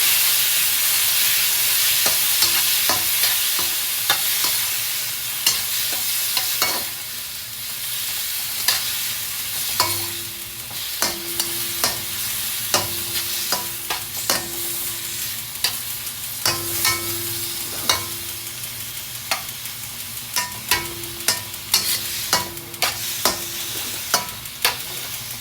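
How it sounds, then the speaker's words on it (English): Shrimp frying for Guyanese fried rice give a loud, continuous sizzle close by, with frequent sharp clicks and scrapes of a utensil stirring against the pan throughout. "fry the shrimp"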